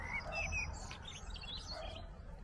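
A blackbird calls in a backyard vegetable garden in England, giving a few short, faint chirps and whistles early on and again midway over quiet low background rumble, with no voices.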